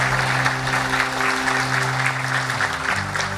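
Applause from an audience at a tobacco industry forum welcoming a guest, dense steady clapping held at an even level throughout, with a low background hum beneath.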